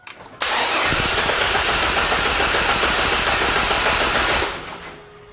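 A Chevrolet 4.3L Vortec V6 with a cylinder 5 misfire cranks briefly, then catches and runs at a steady, loud, close rumble for about four seconds before the sound drops away.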